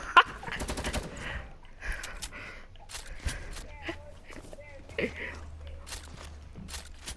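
Light machine gun fire in a first-person shooter game, heard as rapid automatic bursts near the start, then scattered shots, footsteps and game effects over a low engine-like drone.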